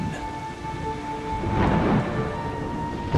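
Thunder rumbles and swells under steady heavy rain in a storm from the video game Macrotis, building to a louder peak midway, with no voices.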